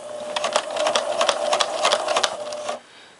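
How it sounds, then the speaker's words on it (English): A sewing machine runs a straight stitch along the edge of fabric pieces, a fast rhythmic mechanical whir of needle strokes for under three seconds, then stops abruptly. "I'm going to sew right along that edge here"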